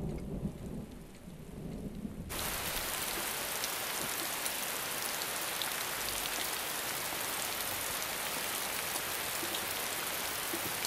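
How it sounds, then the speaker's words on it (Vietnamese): Heavy rain pours down in an outdoor palace setting of a Chinese historical drama, a dense, steady hiss that swells in suddenly after a quieter start and continues loud and unbroken. "Diệp Tâm, trận mưa này lớn quá"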